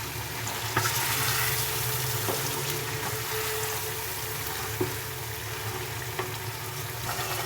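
Tomatoes and masala sizzle and fry in a pan while being stirred for a tandoori masala rice dish, a steady close crackle broken by occasional light scrapes and taps of the spoon.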